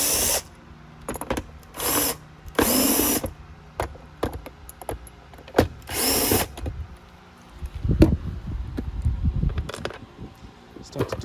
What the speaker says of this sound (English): To remove the bottom plate, all you have to do is just remove these screws.